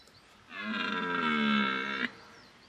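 A red deer stag roaring during the rut, a single loud, drawn-out bellow lasting about one and a half seconds, close and clear against a quiet outdoor background.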